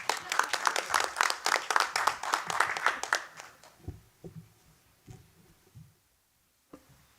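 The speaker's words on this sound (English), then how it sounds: "Round of applause for Italian Americans." A council meeting applauds Italian Americans with a few seconds of dense, moderately loud clapping that quickly fades, leaving scattered soft thumps and room noise.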